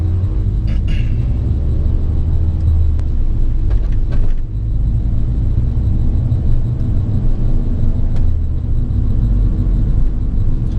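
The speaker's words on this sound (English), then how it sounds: "That's what my car sounds like, that road sweeper there." A road sweeper drives past on a busy road at traffic lights, heard from inside a car as a loud, steady low rumble and engine drone that persists throughout, with traffic noise around it.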